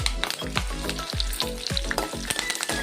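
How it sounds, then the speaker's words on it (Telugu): Curry leaves and tempering spices crackle loudly in hot oil for a coconut dish, a dense rapid popping and sizzle up close with rhythmic stirring strokes, no voices. "ఫైనల్గా కరివేపాకు ఇవన్నీ ఫ్రై అయ్యింది"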